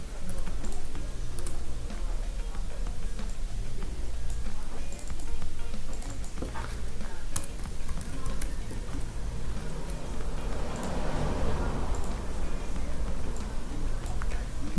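Someone types on a computer keyboard, and quick, irregular key clicks run steadily throughout at close range with no one speaking.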